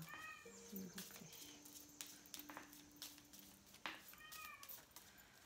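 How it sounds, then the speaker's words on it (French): A female house cat meows several times in the background indoors, faint drawn-out cries scattered among soft rustling. "Vous devez entendre en fond ma petite chatte qui miaule, c'est normal."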